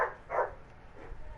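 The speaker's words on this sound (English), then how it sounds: "Sorry for the dog in the background." A dog barks a couple of short muffled woofs in the background, fairly faint and distant, followed by quieter whimpering in a room.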